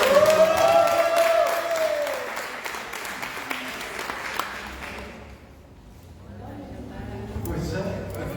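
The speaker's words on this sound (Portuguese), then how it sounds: "Uma salva de palmas para Jesus" A church congregation claps for Jesus during a service, a loud wash of many hands with cheering and a sustained sung or spoken tone over it, dipping midway before rising again.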